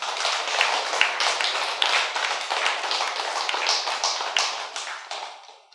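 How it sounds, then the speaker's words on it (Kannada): Loud, sustained clapping from an audience at a Kannada talk by Ajay Kishore about gaining wisdom in jail, an even wash of many hands that fades out near the end. "ಒಂದು ಜೋರಾದ ಚಪ್ಪಾಳೆ ನೀವು"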